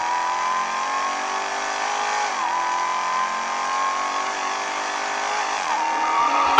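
A Dodge Hellcat Redeye engine revs hard and holds a high, rasping tone as it accelerates, loud and close, with a slight dip partway through.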